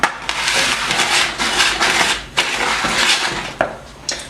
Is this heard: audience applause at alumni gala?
no